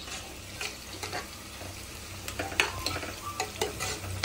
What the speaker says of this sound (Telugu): ఈ ఉల్లిపాయలు అనేవి కొంచెం గోల్డెన్ బ్రౌన్ కలర్ వచ్చే వరకు దోరగా వేయించుకోవాలి.